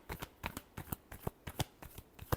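Tarot cards being shuffled by hand, a quiet run of rapid riffling flutters and soft slaps repeating in a quick, uneven rhythm, close up, with no voices.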